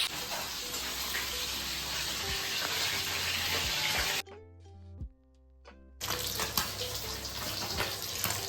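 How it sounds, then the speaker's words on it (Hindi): Local pond fish frying in a pan in a home kitchen, a steady loud sizzle with a short quieter break midway before the crackling returns. "तो इसको अभी मैं फ्राई करूँगी।"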